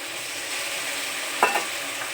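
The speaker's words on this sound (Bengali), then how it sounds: "মশলাটা আমার খুব ভালো করে কষানো হয়ে গেছে" Spice paste with chili powder and salt frying in a pan for a fish curry, a soft steady sizzle with a brief scraping stir partway through, fairly quiet and close.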